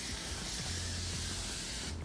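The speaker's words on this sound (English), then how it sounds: "And make sure I spritz that." A spray bottle spritzes a conditioner-based detangling mix onto hair, a soft, fairly quiet hiss lasting nearly two seconds, heard alone.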